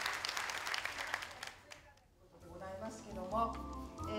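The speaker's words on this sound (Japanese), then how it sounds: "会場を訪れた人たちは、県職員や医師、看護師らの熱演に大きな拍手を送っていました。" An audience applauds a play performed by prefectural staff, doctors and nurses; dense clapping fades after a second or so, then music rises with speech over it.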